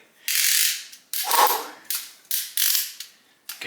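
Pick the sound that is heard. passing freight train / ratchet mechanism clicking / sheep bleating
ratchet mechanism clicking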